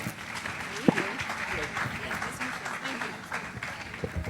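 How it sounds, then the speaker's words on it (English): Audience applause for panelists at a health seminar, a steady wash of clapping throughout with a few sharper claps and voices mixed in. "Let's put our hands together"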